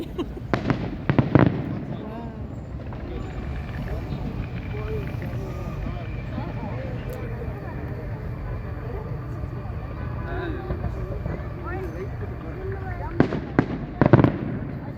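Fireworks burst in loud, sharp bangs at the start and again near the end, with a rumbling wash and crowd noise between and people talking throughout.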